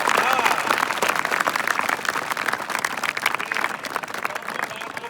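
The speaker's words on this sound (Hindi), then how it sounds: "एक बार ताली बजा के बताओ हम कितना सम्मान" A crowd at a gathering about honouring daughters claps together in a loud, continuous burst of applause that fades slightly toward the end.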